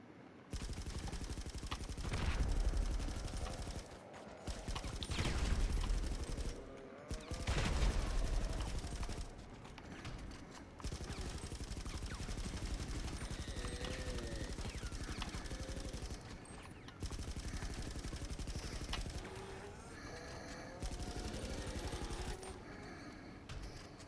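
Zombies open fire in GTA 5 inside a mine shaft: loud, sustained bursts of rapid automatic gunfire crackle almost without pause, with a few brief lulls between volleys.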